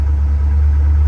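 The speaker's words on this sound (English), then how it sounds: "it'll smooth out once the engine gets to temperature" A 1980 Corvette engine idling just after start-up, a loud, steady low rumble that holds even and close for the whole short stretch, with no voices over it.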